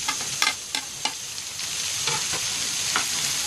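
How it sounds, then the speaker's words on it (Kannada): Tomatoes tipped into a hot pan of frying coconut for bisi bele bath, giving a steady close sizzle broken by a few sharp stirring clinks and scrapes, with no voices. "ಫೈನಲಿ ನಾನೀಗ ಟೊಮೆಟೊ ಹಾಕ್ತಾಯಿದ್ದೀನಿ."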